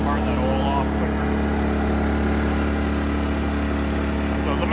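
A small clearance inverter generator, overfilled with oil, runs steadily at full revs close by, a constant loud engine drone with a buzzing hum throughout and no pauses.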